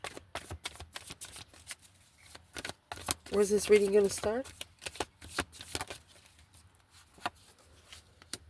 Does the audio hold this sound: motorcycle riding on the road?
no